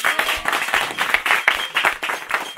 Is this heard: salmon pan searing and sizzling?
no